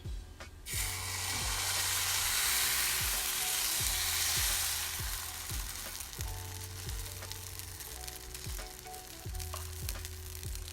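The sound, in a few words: quinoa tortilla wrap frying in grapeseed oil, cast iron pan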